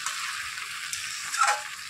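Mutton curry with fried potatoes sizzles in a pan while being stirred, a soft steady frying hiss with faint scraping, quiet and continuous.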